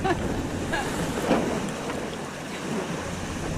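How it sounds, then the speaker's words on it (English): A sailboat under sail in light wind with one engine running, a steady wash of water and wind noise with low engine hum beneath, no talking. "We do have the sails out to swing, but the wind's quite light, so we've got one engine running as well."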